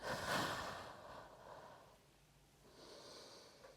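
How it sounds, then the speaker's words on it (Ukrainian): Someone breathes in and out during a mobility exercise workout: a strong close inhale, a long fading exhale, then a softer breath, faint and with no talking. "Вдих, видих."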